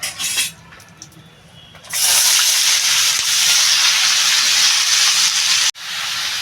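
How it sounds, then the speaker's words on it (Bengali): Bottle gourd is tipped into a hot pot for chana dal, setting off a loud, sustained hiss and sizzle after a short quiet stir, with a brief break near the end before the sizzling resumes. "এইবার বন্ধুরা আমি লাউটা ঢেলে দেবো"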